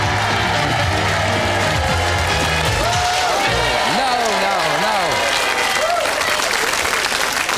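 A TV game show studio audience cheers and applauds loudly and continuously, with a musical theme playing through the applause.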